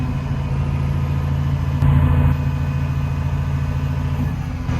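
An excavator's diesel engine runs under hydraulic load as the dipper arm pulls in, drawing both pumps. A steady, mid-toned engine drone holds throughout, with a short thin whine rising briefly near the middle.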